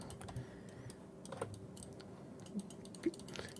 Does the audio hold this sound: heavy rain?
no